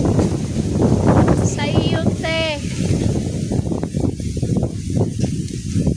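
Strong wind roars steadily into the microphone while someone talks over it, with a few high birdlike chirps in the middle.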